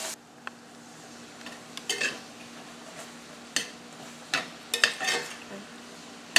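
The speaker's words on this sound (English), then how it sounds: "Our meats are cooking up nicely." Sausage and bacon fry in a pan while a spatula stirs and chops them, giving a steady soft sizzle broken by scraping clatters, louder around the middle and toward the end.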